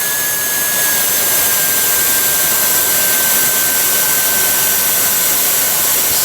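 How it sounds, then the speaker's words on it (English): A knock-off Milwaukee cordless blower runs flat out on its third speed, giving a loud, steady jet-like whoosh with a thin high motor whine throughout and no talking. "So the third speed, you can see it wants to blow the tool around."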